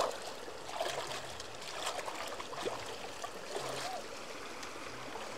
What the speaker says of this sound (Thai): น้ำไหลลงมาจากถ้ำ